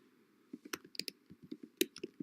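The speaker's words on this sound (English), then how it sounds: "Let's type in the username, Wilmer Smart," Quiet close-up typing on a computer keyboard, an irregular run of light key clicks over about two seconds.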